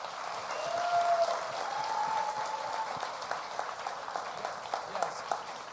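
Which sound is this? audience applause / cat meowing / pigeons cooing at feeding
audience applause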